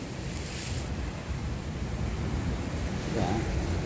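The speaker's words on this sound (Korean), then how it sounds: "자, 여러분들 파도를 한번 보세요." Ocean waves surge against the rocks at a seaside fishing spot in Songjeong, a steady roaring wash of surf mixed with wind rumble that swells slightly toward the end, with no voices.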